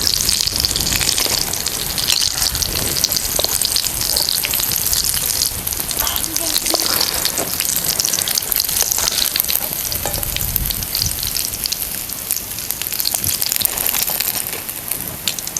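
Ridge gourd bhaji fry in hot oil with a steady, close, continuous sizzle and crackle, stirred now and then, with a voice talking over it.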